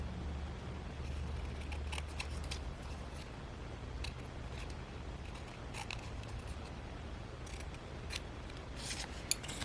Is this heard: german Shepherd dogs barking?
no